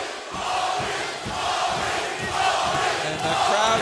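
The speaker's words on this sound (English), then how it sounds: "And the crowd getting behind Smith right now. And they're chanting Maurice." Fight crowd chanting "Maurice" in support of Maurice Smith against Coleman, a dense, roaring mass of voices sustained throughout with rhythmic swells, loud and close.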